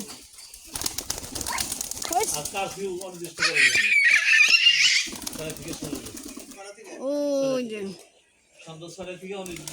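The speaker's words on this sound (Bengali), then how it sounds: "এখন কবুতরকে খাওয়ানো হচ্ছে এই দেখো এইটা হচ্ছে কবুতরের ঘর" Pigeons in a home loft flutter during feeding, with a burst of wing flapping midway and soft bird calls, while a person talks over them throughout.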